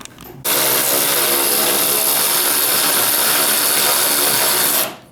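A power tool runs steadily for several seconds while removing upper control arm bolts from a K-swapped Honda Civic, loud and close, starting abruptly and cutting off near the end, with no talking.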